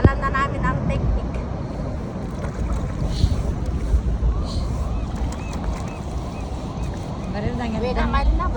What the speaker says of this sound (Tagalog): Lakas-lakas ng wave guys.